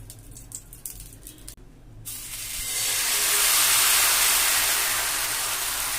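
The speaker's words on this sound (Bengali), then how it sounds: "এবার আমি ভালো করে দু পিঠ ভেজে নিচ্ছি" Patisapta pithe fries in a pan, first as quiet scraping and light sizzle, then a loud, broad hiss that swells up and holds steady to the end.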